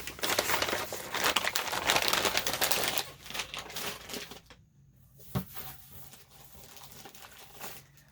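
A package of fall-colored washi tape is torn open by hand, with busy crinkling and rustling of wrapping close up for about three seconds, then quieter, sparse handling sounds and a single sharp crackle.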